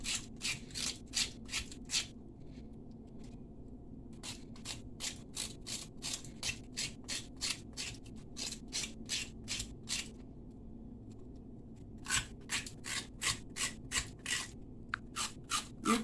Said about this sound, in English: You use your spoon to scrape it.